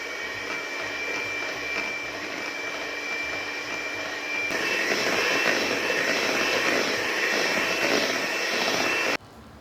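Electric mixer beating cream for vanilla ice cream at high speed, a steady loud whirring drone that grows louder midway and cuts off abruptly at the end.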